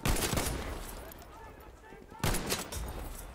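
Selbstlader semi-automatic rifle fire in Battlefield 5 comes in sharp, close bursts at the start, then again after a quieter stretch with fainter distant battle sounds, with a voice briefly underneath.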